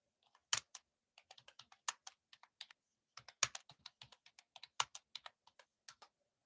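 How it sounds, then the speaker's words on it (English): Irregular keystrokes clatter on a computer keyboard, slow and uneven with short pauses, close and clear in a quiet room. "Typing like an old man."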